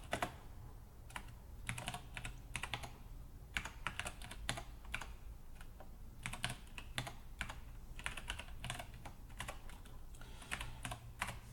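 Rapid bursts of typing on a computer keyboard at a desk, entering commands to open a command prompt and navigate to a Beam miner client folder, keys clicking in irregular clusters with short pauses, close and alone with no talk.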